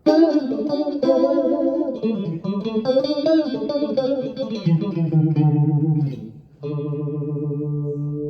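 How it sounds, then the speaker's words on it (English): Electric guitar with single-coil pickups played through a Kmise Vintage Phase pedal: chords with a swirling, sweeping phaser modulation, ringing clearly and sustaining before settling into a held chord. "I really like how phasers sound with the single coil pickups"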